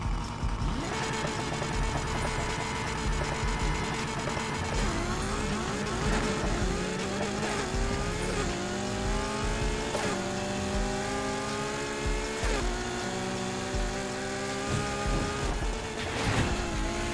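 Ferrari FXX racing car engine in Need for Speed Heat, loud and sustained, revving up through repeated gear shifts with rising pitch sweeps and brief stutters between gears, no voices.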